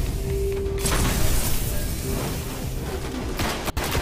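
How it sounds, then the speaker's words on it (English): Grenades burst in a dense barrage of gunfire and explosions during a firefight in the video game Destiny, loud and continuous with a sharp cut near the end. "Oh, throw these grenades."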